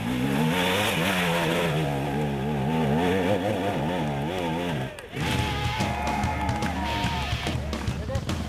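A KTM enduro motorcycle engine revs and labours hard at the Erzberg Rodeo extreme race, wavering up and down nearby, with a brief dip before the engine note picks up again under narration.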